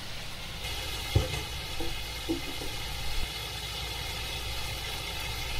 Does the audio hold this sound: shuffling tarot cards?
no